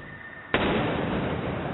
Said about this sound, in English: That was the moment an explosive device was accidentally set off by a bomb squad robot.